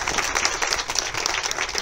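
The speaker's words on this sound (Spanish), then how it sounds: "Un aplauso para todos ustedes. Un aplauso para todos." Steady applause from a crowd, dense clapping filling the whole moment at an even, sustained level with no talk over it.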